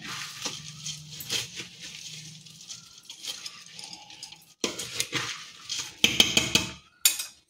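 Karnataka girmit snack mix is stirred in a bowl, giving scattered scrapes and light metallic clinks that grow denser and louder toward the end, with quiet gaps between bursts and no talking.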